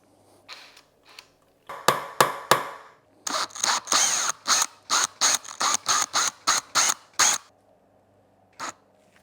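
A power drill with the wrong bit bites into a stripped screw until the screw head snaps off, heard close as a run of short, loud bursts stopping and starting, with a lone final burst after a pause.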